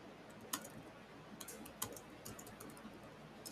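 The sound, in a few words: typing on a computer keyboard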